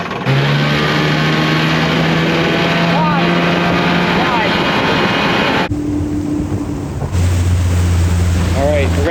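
Engine of a rare flying military boat sitting on water, throttled up into a steady loud drone that holds, dips briefly, then returns at a deeper pitch, with wind and water noise underneath and people talking.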